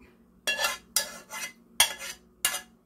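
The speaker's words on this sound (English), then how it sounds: "Make sure that your pan is all nice and scraped out." A utensil scrapes cheesy pan contents into a baking dish. Five distinct, close scrapes come at a steady rhythm against a quiet background, with no talk.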